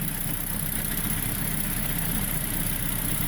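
Saab 9-3 engine idling steadily with a power steering pump that whines, a constant dense drone that stays even and unbroken throughout, close up, with no talking.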